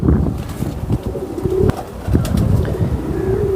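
A pigeon imported from Bangladesh coos in repeated low, throaty rolls close to the microphone, with faint chirps and light rustling around it and no talking.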